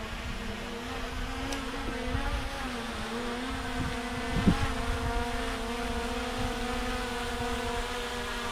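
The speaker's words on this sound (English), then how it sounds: "The drone's still up there." An Antigravity A1 drone hovers overhead with a steady motor whine and a sustained harmonic hum, moderately faint against outdoor ambience, with a brief bump near the middle.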